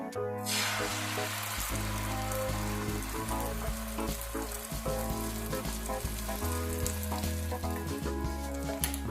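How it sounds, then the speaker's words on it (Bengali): Beaten egg hits hot mustard oil in a frying pan and erupts into a loud, sudden sizzle that continues strong and crackling, with no talk. "তেলটা গরম হয়ে গেছে এবার ফ্যাটানো ডিমটা আমি দিয়ে দেবো"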